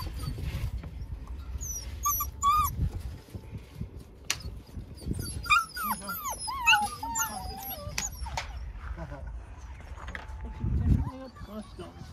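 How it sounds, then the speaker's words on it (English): Puppies whimper, squeak and yip in high, wavering cries, close by and near-continuous, with an adult voice talking over them at times and some rustling underneath. "Here's our cute little puppies."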